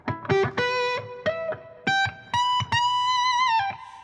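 Electric guitar played through effects pedals: a series of separate picked notes and chords, each ringing briefly before the next, ending in a longer sustained chord with a slight wavering movement, clear and close with no talking.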